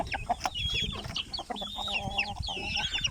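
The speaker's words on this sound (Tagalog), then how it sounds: "mga manok ko guys, oh" Several chickens cluck and chatter busily at close range, overlapping calls rising and falling with no voices.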